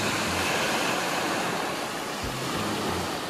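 Ocean surf at a beach cove in the Philippines, a continuous roar of breaking waves and wash with no pauses, loud and close, with wind buffeting the microphone and no voices.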